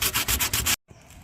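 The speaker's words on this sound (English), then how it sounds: "So we're sanding it, taking all that rust off" Sanding rust off a car body during dent repair: a loud, rhythmic run of about six rough, scratchy back-and-forth strokes that stops abruptly, then gives way to a faint, quieter rubbing.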